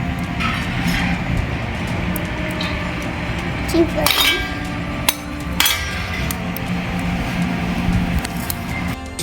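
Homemade incense stick ingredients being mixed by hand, with repeated knocking, scraping and clinking sounds against a container over steady background noise.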